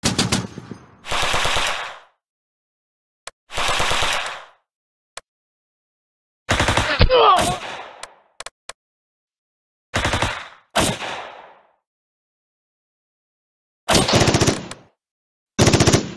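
Bursts of automatic machine-gun fire from the Close Combat video game ring out in about eight separate rattling volleys, some long and some short, with brief single shots and silent gaps between them and no voices.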